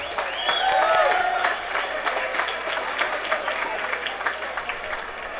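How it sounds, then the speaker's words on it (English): A crowd applauds both fighters at the end of a three-round cage fight. Loud, sustained clapping and cheering roll through the arena, with some faint voices mixed into the noise. "let's give both fighters a big round of applause"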